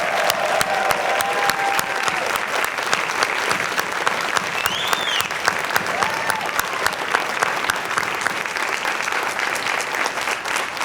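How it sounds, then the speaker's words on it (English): A crowd gives sustained applause for new citizens at a naturalization ceremony in a community center, steady dense clapping filling the room from start to end, with a few faint voices mixed in. "how about one last round of applause for the Vienna citizens?"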